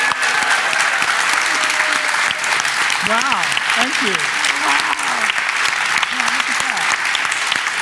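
Sustained audience applause at a live talk event, loud and steady throughout, with a speaker's voice briefly rising over the clapping.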